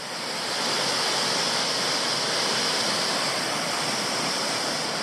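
Triple Falls, a three-tiered waterfall on Toolona Creek in Queensland, roars steadily and close, a dense unbroken rush of falling water with no voices.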